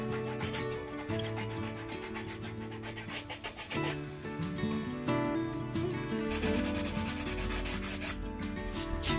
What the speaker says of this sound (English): I have so much sanding to do.